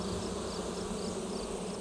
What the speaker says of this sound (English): Back in the echinacea, the bees continue their work.